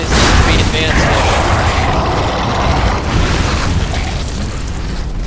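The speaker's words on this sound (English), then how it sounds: "The explosion of the Reaver opened a" A loud, sustained explosive rumble with broad roaring noise from a Reaver exploding in Gears of War 2, continuing throughout without a clear break.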